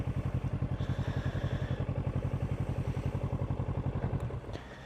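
A motorcycle ridden slowly, its engine thumping in a steady, even pulse close by, with the beat loosening and fading slightly at the very end.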